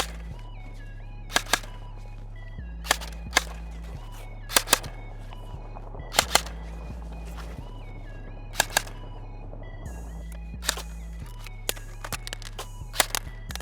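Airsoft guns fire during 3-gun shooting with a Lancer Tactical Gen 2 Interceptor SPR, sharp isolated cracks and paired shots scattered irregularly over a steady backing of low, shifting music.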